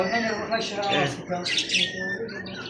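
A parrot squawks and chirps in loud, harsh bursts, with human voices talking over and around the calls.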